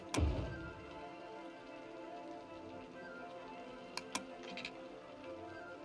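Faint, steady patter of rain in the video game Cities: Skylines with a few sharp drips ticking through it, quiet and continuous.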